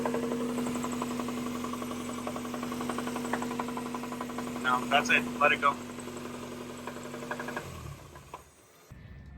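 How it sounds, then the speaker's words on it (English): A newly installed car engine idles with a steady hum and an underlying rhythmic rod knock, while people talk nearby; the engine cuts off near the end. "This sounds a lot like rod knock"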